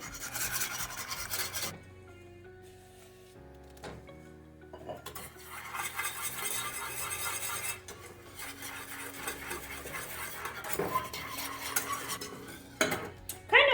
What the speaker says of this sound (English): Add your beautiful egg yolk with sugar and whisk so fast.